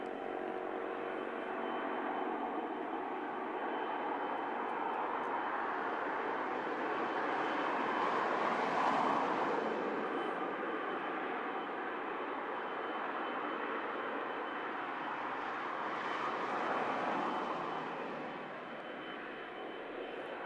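An arriving aircraft passes on approach, a steady broad jet-like roar that swells to a peak around the middle, eases, then rises again before fading, heard at moderate distance with no talk.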